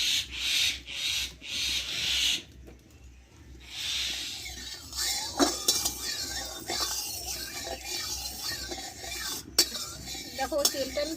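Metal spoon scraping and rubbing around the inside of a heated wok while mustard oil is spread for a Bengali-style eggplant omelette, with repeated close grating strokes and light clinks, no talking.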